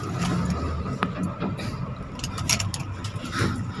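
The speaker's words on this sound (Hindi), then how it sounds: "ये गाइस ट्रैक्टर आ रहा है" A tractor approaches along a jungle road during a forest drive, its steady engine rumble continuous and moderately loud with some faint talk and rattling over it.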